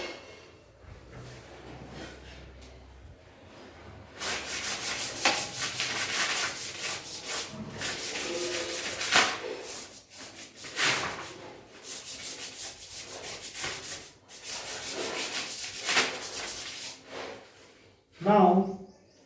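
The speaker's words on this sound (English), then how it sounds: "I will rub this blackboard" A chalkboard is rubbed clean with broad scrubbing strokes, a dense hiss in bursts of back-and-forth wiping over several seconds, loud and close, with brief pauses and a short voice near the end.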